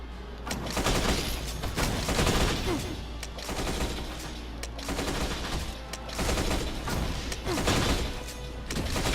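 Rapid repeated gunfire from Blade in the Marvel Ultimate Alliance video game, a dense run of loud shots with crashes and impacts layered over continuous game noise, no talking.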